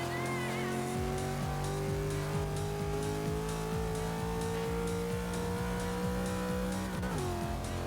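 Race car engine in Forza Motorsport 6 at Watkins Glen, revving steadily through the gears with a sustained drone, then dropping sharply under braking near the end; loud and continuous.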